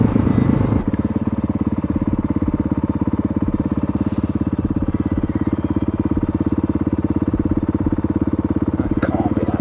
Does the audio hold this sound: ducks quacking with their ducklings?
no